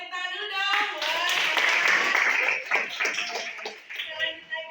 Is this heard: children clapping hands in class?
yes